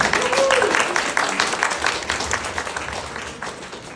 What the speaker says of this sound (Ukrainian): Аплодисменти Людмилі